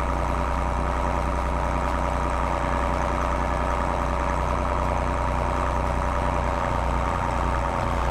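Steady, loud tractor engine drone in Farming Simulator 22, a constant low rumble with a dense mechanical hum and no change in pace, heard alone without voices.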